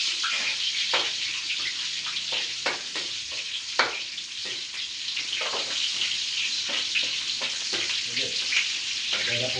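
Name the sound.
onion sizzling in oil while cooking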